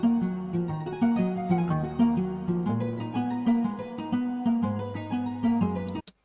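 Guitar part of a programmed FL Studio beat: plucked guitar notes in a steady repeating melodic pattern with low bass notes underneath, loud and close, with no talking.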